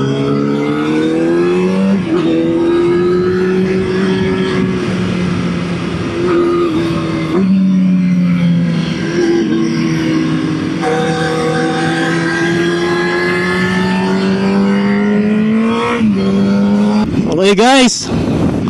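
A Kawasaki ZX6R 636 sportbike engine revs on a racetrack during a track day, rising and falling continuously with rev-matched manual clutch shifts between gears, loud and close throughout, with a rider's voice faintly under the engine noise.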